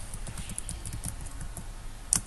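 Typing on a computer keyboard while entering a search phrase: a steady run of quick, light key clicks with one sharper tap near the end, close by and with no talk.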